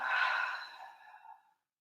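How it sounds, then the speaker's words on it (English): A single long exhale out through the mouth during yoga breathing, close and breathy, fading out after about a second and a half. "breathing in through the nose and out through the mouth"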